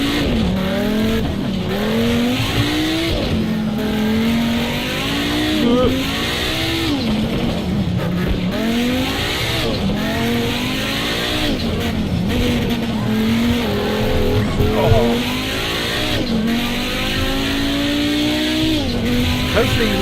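Race car in a rallycross driving video game: engine revving with long screeching tire squeals as the car skids under an overcooked handbrake turn, continuous and loud, with a voice talking over it.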